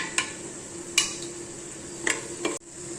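Cumin and coriander frying in a pan with a steady low sizzle, broken by a few sharp metallic clinks of a spoon stirring against the pan.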